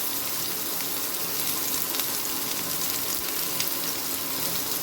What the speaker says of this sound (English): so 1/4 teaspoon of hing, and we fry this all nicely